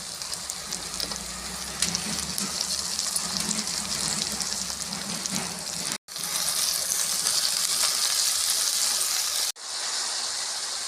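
Goat head meat sizzling and frying in a pan for a Telugu-style curry, a loud, steady crackling sizzle close by, briefly cut off twice, with no talk.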